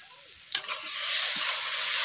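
Browned onions frying in a pan after turmeric and chili powder are added, heard as a loud, close, steady sizzle that swells after a stir, with no talk.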